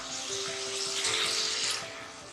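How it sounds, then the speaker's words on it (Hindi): Water pours steadily into a pressure cooker holding browned mutton, a continuous close splashing and trickling that lasts a couple of seconds with no talk. "अब हम इसके अंदर 2 गिलास पानी डालेंगे और कुकर को बंद कर देंगे"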